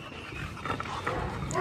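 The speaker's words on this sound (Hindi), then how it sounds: "विस्की अंदर है तो भी क्या भौंक रहा है" Whisky, a dog kept indoors, barks in short muffled bursts against a steady background, with a voice faintly present.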